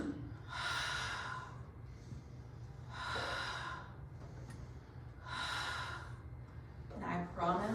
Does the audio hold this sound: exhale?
yes